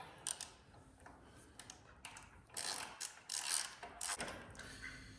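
A ratchet clicks in short bursts while 7/8-inch nuts are tightened on the front suspension of a 1970 GMC C2500 pickup. Quick, uneven clacks come close up between brief pauses, with no talking.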